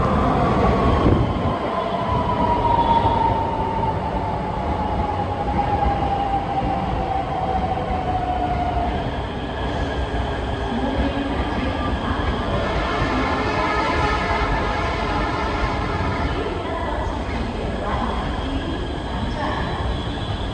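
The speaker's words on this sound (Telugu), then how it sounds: "హై స్పీడ్ ట్రాన్సిట్ రైల్ అన్నది వస్తుంది చూడండి." An RRTS high-speed rail train pulls in on the Delhi to Meerut line, its steady rumble filling the scene, with a drawn-out wheel squeal sliding down in pitch early on and continuous rail noise thereafter.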